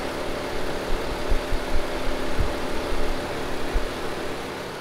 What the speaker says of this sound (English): you can hear that the fan is running